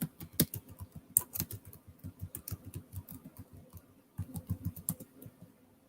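Rapid, steady typing on a computer keyboard, many close keystrokes in quick runs with a brief pause midway before another burst of clicks, no voices.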